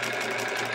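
A sewing machine quilting the border of a Splendid Sampler quilt hums in a rapid steady stitching rhythm, close and continuous with no voices.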